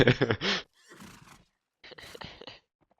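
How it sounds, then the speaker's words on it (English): Video game horses whinny and snort up close in a few short bursts separated by silence, the first call loudest and clearest, followed by quieter breathy neighs. "TMW horses just waiting for the flag"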